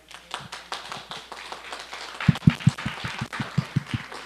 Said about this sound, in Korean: 환영의 박수 치도록 하겠습니다